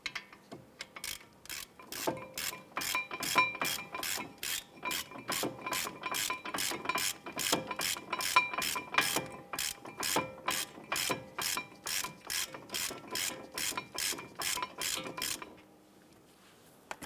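A ratchet removes a caliper bracket bolt on a 2012-2017 Toyota Camry, a long run of rapid, evenly spaced close clicking strokes with brief pauses before it stops near the end.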